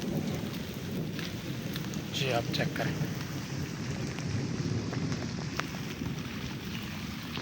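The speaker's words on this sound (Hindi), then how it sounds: "इस वक्त बरस रही है और बादलों की गरज जो है वो भी आपको सुनाई दे रही होगी" Steady heavy rain hisses throughout in a Punjab village in Pakistan, with low rumbles of thunder rolling beneath it; a voice speaks briefly partway through.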